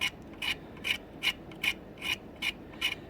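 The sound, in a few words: X-Acto knife scraping glue off a model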